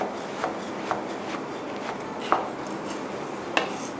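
A knife slices shiitake mushrooms into strips on a board with scattered, irregular taps, spaced unevenly and close by, and no one speaks.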